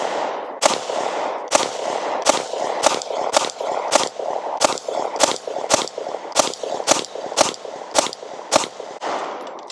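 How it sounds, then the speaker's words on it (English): A DUSK19 Lone Wolf handgun with a brown frame fires about fifteen rounds in a fairly even, quick cadence, each shot a loud close crack with a short echo tail. "let's go ahead and shoot 15 more rounds"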